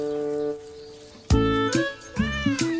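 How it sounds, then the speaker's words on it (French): A small female cat meows loudly and close up, several drawn-out cries in a row, with a tonal background sound fading out before them. "tandis que Charlotte câline la petite chatte, les chatons lèchent la sucette"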